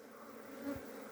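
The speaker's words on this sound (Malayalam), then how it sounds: "അടയിൽ നിന്ന് താഴോട്ട് ഈച്ച ഞാലുന്നു കാണാം കരിഞ്ഞൊടിയിൽ തേനീച്ചകളെ" Karinjodiyal honey bees at their hive box, a faint, steady insect buzz swelling briefly for a moment, with no voices.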